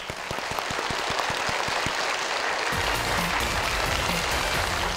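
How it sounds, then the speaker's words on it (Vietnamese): A game show audience claps, scattered at first, then swelling into dense, full applause that continues to the end. "Hãy dành cho người chơi ở vòng 3 một tràng vỗ tay."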